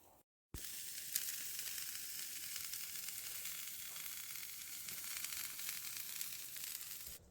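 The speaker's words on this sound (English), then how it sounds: "while we're waiting for the bistecca to sear on the open wood fire barbecue" A T-bone steak sears on an open wood fire barbecue, giving a steady, dense sizzle and crackle that holds at an even level after a brief quiet opening, with no voices.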